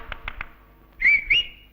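A person whistles two short, loud rising notes at close range, following a few soft taps, in a Tamil comedy film scene.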